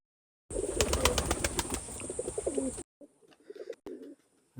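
Khulna Chot pigeons coo softly amid a loud, steady high hiss and fluttering, then quieter scattered bird sounds after a brief break.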